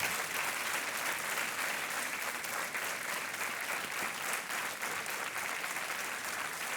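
A television quiz-show studio audience applauds a contestant's win, a thick, even wash of clapping from many hands that carries on steadily at a moderate level.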